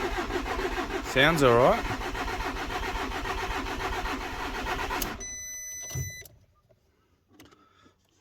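A VW Amarok engine with a broken timing belt cranks over steadily for about five seconds, then stops. Someone speaks briefly over the cranking, and faint clicks and rattles follow once it goes quiet.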